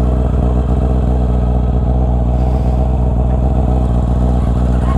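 A Yamaha R6 sport motorcycle idling and revving as it pulls away on a test ride, a loud, steady engine drone close to the microphone, continuous throughout without talk.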